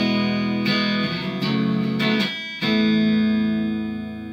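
A cheap $100 electric guitar on its neck pickup runs through heavy distortion. Fuzzy chords sustain and ring, with a short break of picked notes before a final held chord fades out.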